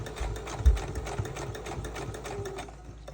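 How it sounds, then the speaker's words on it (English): Sewing machine running a quarter-inch seam with forward and back stitching, a fast steady mechanical chatter of needle strokes with a low motor hum, close and continuous. "I'm going to go forward and back stitch a couple times, and then we're free to go."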